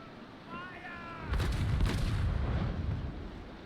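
Mortar fire from a brig in the naval sailing game Naval Action booms out as a deep, rumbling blast, followed by a lingering low roar; a brief voice is heard just before.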